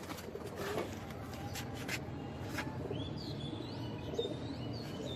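Hobby pigeons kept for high-flying racing, giving faint chirps and soft calls over a constant low background hum, with a few brief tapping sounds nearby.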